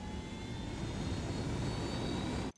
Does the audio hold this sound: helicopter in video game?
yes